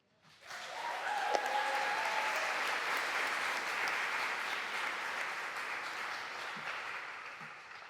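An audience at a poetry reading breaks into applause, a quick swell of clapping that holds steady and then slowly tapers.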